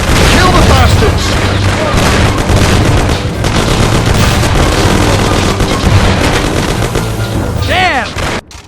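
Shootout in the video game Mafia: The City of Lost Heaven: a loud, dense barrage of gunshots and heavy booms runs almost without a break, with voices mixed into the racket.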